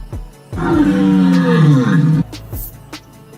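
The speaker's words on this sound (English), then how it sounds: "Lion." A lion roars loud and close, a deep drawn-out roar swelling then fading over about two seconds, with a few short grunts around it, from footage in an animated kids' animal-name learning video.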